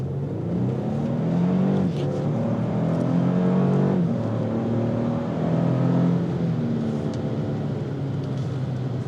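A 2024 Lexus GX 550 Premium+ 4WD accelerates hard at full throttle, its engine a steady, loud rising drone with climbing tones and a brief dip partway through, heard from inside with no talking.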